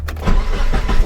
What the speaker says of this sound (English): Let's fire up that E85 cold start